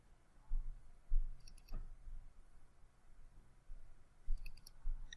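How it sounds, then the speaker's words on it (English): A computer mouse clicks a Browse button in QuickBooks Point of Sale software. A few quiet, sharp clicks come at irregular intervals over faint room noise. "We'll click Browse."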